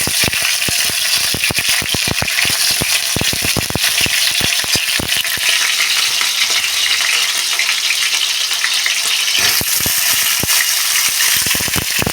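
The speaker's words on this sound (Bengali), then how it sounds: "এভাবে সব সবজিগুলো আমি ভেজে নিয়ে নেব।" Vegetables fry in a pan for Bengali shukto, a loud, continuous sizzle up close with a rapid scatter of sharp crackles and pops, thinning out briefly in the middle.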